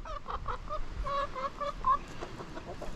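Farm chickens cluck nearby in a quick series of short, nasal calls over a low background rumble, moderately loud and clear, with no talk.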